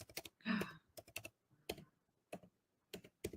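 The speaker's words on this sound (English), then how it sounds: "I'm going to type it on the comments." Sparse keystrokes on a computer keyboard come as irregular, quiet, close clicks, separated by short pauses of near silence.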